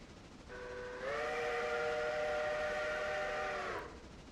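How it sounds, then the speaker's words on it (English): A steam locomotive whistle in the train game Railroader sounds one sustained, steady blast lasting about three seconds with no talk. "You really like blowing your whistle."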